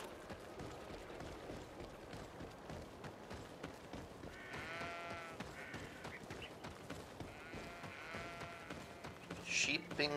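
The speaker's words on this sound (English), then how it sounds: "Sheep and goats." Sheep and goats bleat a few times in the background of the video game GreedFall, faint and wavering, while continuous talking and game sounds run over them.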